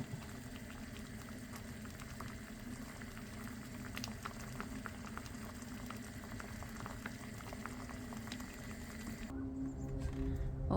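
A pot of Thai-style fish curry with sour bamboo shoots boils steadily, with continuous bubbling and popping throughout and a change in the background near the end.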